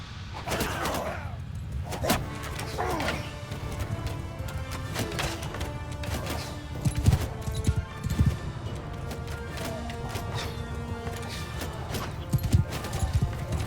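Cavalry horses charge through a Mount & Blade II Bannerlord battle, their hooves drumming steadily under a dense, continuous din of combat clatter and crashes, loud and busy throughout without clear voices.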